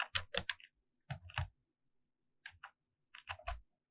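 Typing on a computer keyboard in a programming lab, short bursts of close, crisp key clicks separated by brief pauses, with no talk.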